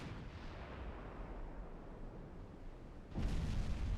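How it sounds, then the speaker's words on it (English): Heavy naval cannon fire from warships in the naval battle game Ultimate Admiral Dreadnoughts: a steady rumbling barrage, then a louder boom burst near the end, with no talking. "Fire the cannons!"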